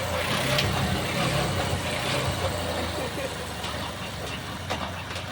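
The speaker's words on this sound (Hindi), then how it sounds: "तो ये देखिए अभी मेरा गाड़ी स्टार्ट हो रहा" A carbureted Honda Shine BS6 motorcycle engine runs at a steady, close, continuous idle, its even mechanical rumble unbroken for several seconds.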